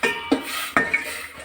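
A spoon stirs beetroot into hot sugar syrup in a pan, giving two clear clinks of metal against the pot followed by softer scrapes, close and fairly loud with no talking.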